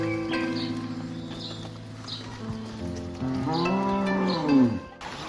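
Cows sharing a village path in Gelan, Uzbekistan, low drawn-out moos from nearby cattle, one long rising-and-falling call toward the end, with faint outdoor ambience and a few light hoof sounds.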